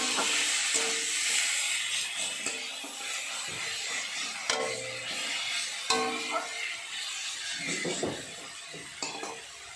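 A spice paste with chilli powder, cooked for a Bengali tomato-onion fish curry, fries in a pan with a bright, steady sizzle, while repeated scraping stirs and pan knocks come through clearly.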